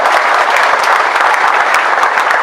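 A church congregation at a revival service inside Abepura prison claps loudly and steadily, dense continuous applause filling the whole moment without speech.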